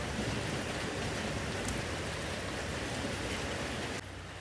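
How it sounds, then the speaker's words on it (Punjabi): Continuous heavy rain falls in a steady, dense roar of drops on surfaces. The downpour eases slightly in level just before the end, and no one speaks. "ਲਗਾਤਾਰ ਮੀਂਹ ਪੈਣ ਡਿਆ"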